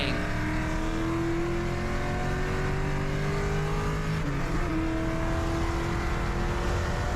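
A Coyote V8-swapped car with pulleys and maximum weight reduction races, its engine revving hard and droning loudly and continuously with shifting pitch, steady and close throughout.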